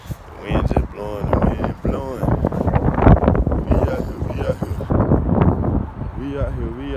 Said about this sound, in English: The wind just blowing.